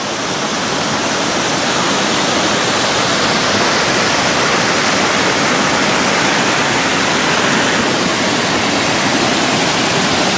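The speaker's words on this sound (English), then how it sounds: "And there's the shot of that waterfall I wanted." A loud, steady roar of falling water from a split waterfall at Glendale Shoals, broadband and continuous throughout, with no voices or breaks.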